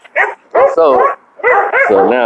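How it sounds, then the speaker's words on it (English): Dogs barking and yipping close by in several short bursts, loud and insistent, with a voice speaking briefly among the barks. "Y'all can excuse the dog here for a minute."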